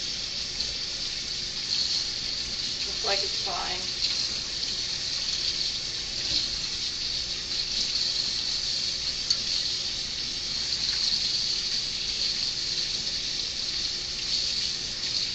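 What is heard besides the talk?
rinsing pasta with cold tap water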